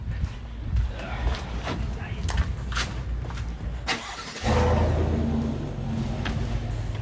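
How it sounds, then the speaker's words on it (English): A Chevrolet Silverado truck engine cranks and catches partway through, then settles into a steady, loud idle close by, with voices and background noise before it. "Start the truck up."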